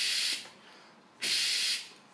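Air is blown hard through a Russian-made Maklaud X Egypt hookah with a diffuser to purge it, making two strong, breathy hissing bursts separated by a quieter pause.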